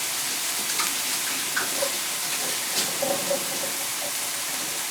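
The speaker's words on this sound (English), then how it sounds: "when you put your meat in the pan, a nice sizzle" Meat sizzles steadily in a hot pan, a continuous bright crackling hiss with occasional small pops, close and moderately loud.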